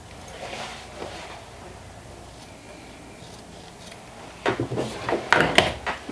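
Scissors snip the corners of a sewn fabric garment piece, a vintage jumper, in a quiet room: a low background for several seconds, then a close cluster of crisp clipping and rustling sounds toward the end.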